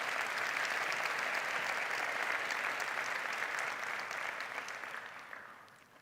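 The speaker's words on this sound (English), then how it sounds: "Let us give them another round of applause in appreciation." Steady, full applause from a large audience at a university graduation ceremony honouring the musicians, a dense sustained roar of clapping that holds evenly, then fades out toward the end.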